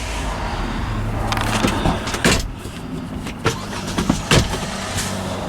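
An Infiniti QX with suspected engine trouble cranks and starts, giving a brief rattle and a rev flare inside a steady engine drone, with several sharp knocks and clatters standing out near the middle and end.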